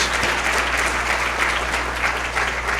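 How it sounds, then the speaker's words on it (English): Steady applause from a luncheon audience at a school district's Teacher of the Year event, full and even for the whole stretch over a low constant hum. "one more round of applause for our outstanding Board of Trustees"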